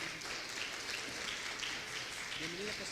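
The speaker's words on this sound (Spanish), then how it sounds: "te pido que le demos un fuerte aplauso al Señor por su vida" A church congregation applauding, dense steady clapping from many hands filling the room at moderate distance, with a voice speaking faintly underneath near the end.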